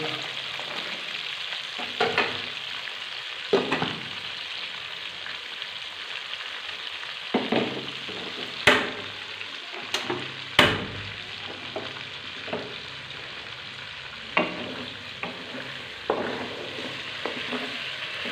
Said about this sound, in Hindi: गोश्त को हमने फ्राई कर लिया है, अब इसको निकाल लेंगे।